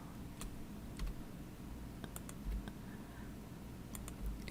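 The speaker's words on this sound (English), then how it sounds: "start deleting on my keyboard, or hold down my shift key and get a bunch of them at once" Keys on a computer keyboard are pressed repeatedly to delete design nodes, giving scattered quiet clicks and taps with a few soft thumps. The clicks come in a loose rhythm over a low background hum, with no speech.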